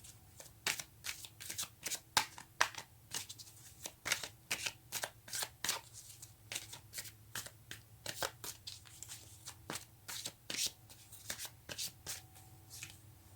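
Tarot cards are shuffled by hand in a quiet room, with a long run of crisp, repeated riffles and soft slaps in an uneven rhythm, close and fairly faint.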